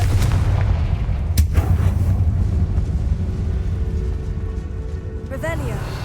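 A Confringo fire spell bursts in Hogwarts Legacy, a sharp booming blast standing out over a dense, continuous rumble of game sound, with a voice speaking over it.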